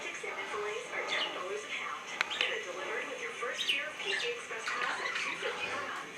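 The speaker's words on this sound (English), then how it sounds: "There's the birds." Pet birds chirp and tweet indoors as they fly around a room, a steady stream of small high calls under a person talking nearby.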